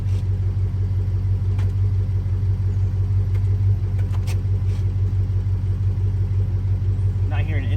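A car engine runs steadily with a failing transmission, a constant low rumble holding level with no audible gear shift, a few faint clicks above it and a brief whine near the end.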